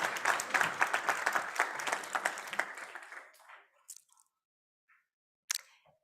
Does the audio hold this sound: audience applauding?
yes